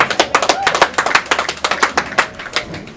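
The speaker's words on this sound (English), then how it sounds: "They're clapping for us, Skip." A crowd claps at a bowling tournament, the major event on a 2-2-2 Dutch pattern: a dense burst of sharp hand claps, loud and close, running steadily through the whole stretch.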